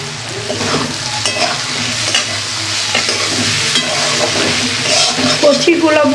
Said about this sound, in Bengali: পুঁদুরি ভাজাটা কিন্তু তাড়াতাড়ি হয়ে গেছে,